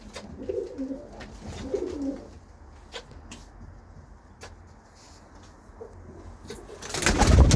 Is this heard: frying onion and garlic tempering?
no